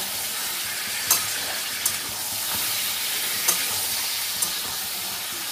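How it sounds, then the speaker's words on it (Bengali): Chicken pieces sizzling steadily in a hot pan for a chicken curry, with a few sharp scraping knocks as a spatula stirs them, close and continuous with no talking. "এই 2 থেকে 3 মিনিট নাড়লেই দেখবে চিকেনের কালারটা চেঞ্জ হয়ে যাবে"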